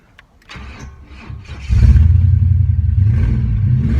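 A car engine with a faulty ignition switch cranks briefly, then catches and settles into a loud, steady idle that holds to the end.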